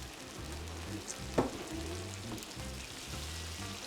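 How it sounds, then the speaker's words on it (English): Port wine poured into a pan of sizzling maple-glazed, bone-in pork chops gives a steady frying hiss with a brief louder splash midway, close and continuous, with no talking. "Adding Porto wine, just a little bit of Porto wine, add more sweetness."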